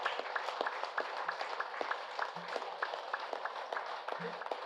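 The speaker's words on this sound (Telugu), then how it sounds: "గౌతమ బుద్ధుడికి చప్పట్లు కొడదాం." An audience at a spiritual music and meditation gathering claps together in a steady, even beat. The crisp, regular claps sit over faint voices and low background tones at moderate volume.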